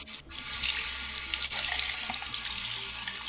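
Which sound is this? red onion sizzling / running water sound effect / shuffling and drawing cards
running water sound effect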